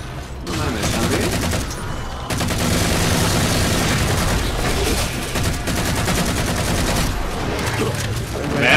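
Rapid gunfire and explosions in Halo Spartan Ops: dense, loud bursts of shots and booms overlapping continuously, with people talking in places.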